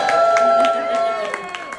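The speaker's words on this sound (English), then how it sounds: "if you cheer really loud, you might hear yourselves" A cruise-ship audience at an 80s pop interview event cheers and whoops, a crowd roar with scattered claps that fades near the end.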